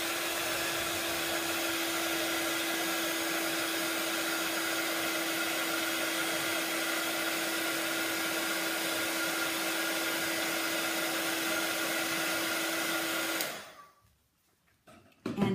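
An embossing heat tool blows hot air over an embossed stamped image in a steady, loud, even whoosh for about thirteen seconds, then switches off, leaving near silence.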